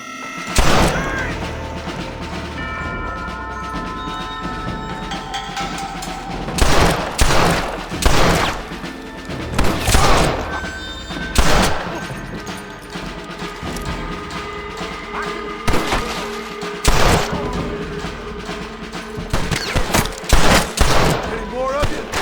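Gunfire shootout in the Western video game Red Dead Redemption, with repeated loud bursts of shots and rapid volleys crackling over a steady backdrop, interspersed with mechanical clicks of reloading.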